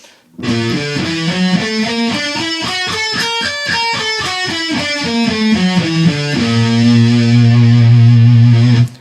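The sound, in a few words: electric guitar playing scale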